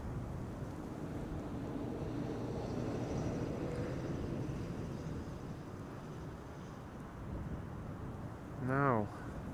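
A United Airlines Boeing 767 jet at Amsterdam Schiphol Airport, heard as a steady, distant broadband roar blended with wind buffeting, ending with a brief rising chirp.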